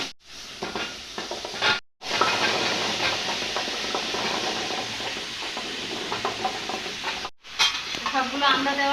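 Hog plums drop into hot oil with turmeric and spices for a pickle and sizzle steadily with a bright frying hiss. Stirring noises break in and a voice talks over it.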